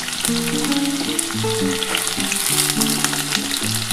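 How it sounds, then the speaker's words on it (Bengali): Pointed gourd (potol) and potato pieces frying in hot oil in a pan, a continuous bright sizzle with occasional stirring scrapes, close and fairly loud, while soft music plays underneath. "তার জন্য আগে আলুটা একটু হালকা করে ভেজে নিই। এবার আমি পটলটা দিচ্ছি বন্ধুরা।"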